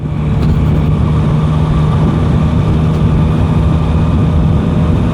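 Yamaha Tracer 9 motorcycle ridden at night, a loud, steady low engine drone with wind rumble continuing without break.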